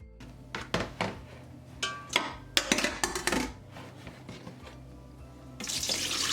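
Running tap water splashes intermittently in a sink as a mackerel is rinsed, with uneven bursts and clunks, then a steadier full stream rushes near the end.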